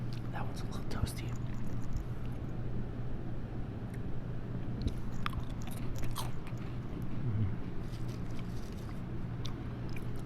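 Extra cheesy Cheez-It crackers crunch and get chewed close to a microphone, with steady soft mastication and scattered crisp bites over a low constant hum.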